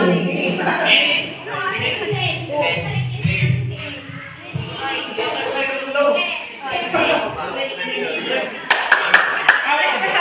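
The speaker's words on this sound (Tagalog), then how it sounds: "pumalakpak ang shout, yehey!" Children clapping together in a classroom, a burst of hand claps mixed with chatter and a teacher's voice talking over them.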